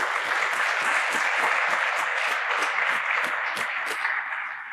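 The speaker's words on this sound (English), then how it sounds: "this applause is for all of the event planners to get it to this point, our partners and our sponsors" An audience at the 2025 State of the St. Louis Workforce Report event applauds steadily, with many hands clapping in a dense, even wash that holds for several seconds and eases off slightly at the end.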